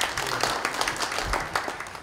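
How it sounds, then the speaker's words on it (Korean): Audience applause welcoming a discussant at a forum on building an integrated new airport, moderate scattered clapping with audible individual claps, fairly close and steady. "그럼 박수로 맞으시면 고맙겠습니다"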